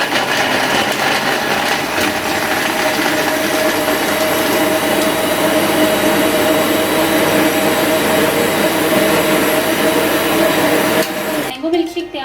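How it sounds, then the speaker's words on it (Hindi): Blender whirring steadily and loudly as it blends a mango milkshake with ice cubes, a continuous dense grinding roar that holds almost without change before cutting off near the end. "और आइस क्यूब्स डालने के बाद अब हम इसे अच्छी तरह से ब्लेंड करेंगे।"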